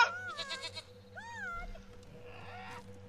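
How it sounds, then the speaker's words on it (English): A mountain goat in the post-apocalyptic video game Wasteland 3 gives a couple of loud, wavering bleats, close and clear, followed by a quieter drawn-out cry over low game ambience. "That mountain goat."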